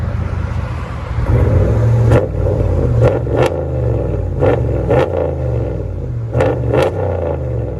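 A RAM 1500 pickup idles with a deep burbling rumble through a Dynamax Race Bullet exhaust, then gets blipped in several sharp, loud revs close by, with short pauses between the bursts.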